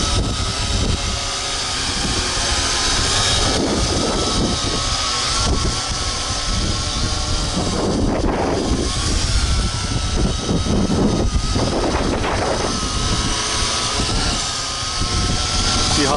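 A SYMA X8G quadcopter camera drone runs at full throttle, its propellers producing a loud, steady buzzing whine mixed with wind buffeting on the microphone, and someone speaks briefly.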